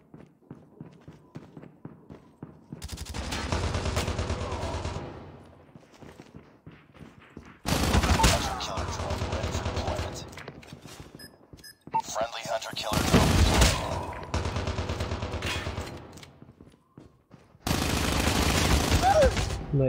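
Bursts of automatic gunfire ring out in the mobile shooter COD Mobile, loud sustained volleys alternating with quieter stretches of lighter shots and movement, several seconds each, under occasional game sounds.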